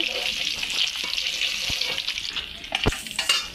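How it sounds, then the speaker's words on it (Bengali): Homegrown eggplant fries in hot oil in a kadai that was just used to fry mrigel fish, a close, bright, steady sizzle with a few sharp spatula knocks near the end. "বেগুনটা তুলে দেবো বেগুনটা একদম ভেজে তুলে নেবো"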